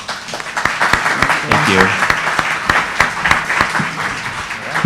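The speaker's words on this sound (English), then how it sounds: "Can we just give them a round of applause?" An audience at a community cookbook talk at the Brooklyn Book Festival claps in a burst of applause. A speaker's voice is heard over the clapping.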